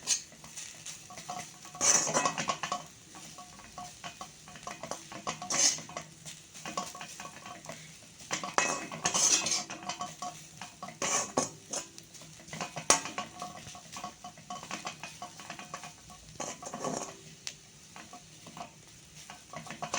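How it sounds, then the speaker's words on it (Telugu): A spoon stirs a carrot and jaggery mixture with dried coconut in a pan, giving scraping, clinking strokes over a soft sizzle at a steady, uneven rhythm. "ఇలా ఎండు కొబ్బరి వేసుకొని కలుపుకుందాం."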